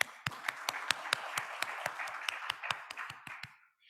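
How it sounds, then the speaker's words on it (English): An audience applauds for API at an event: steady, dense clapping from many hands nearby, holding for several seconds before tapering off. "A huge round of applause for API."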